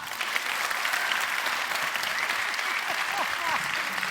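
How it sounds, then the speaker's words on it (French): Loud, sustained applause from a theatre audience at a magic show, a thick, even roar of clapping with cheering voices rising within it. "le public va vous applaudir une dernière fois très fort"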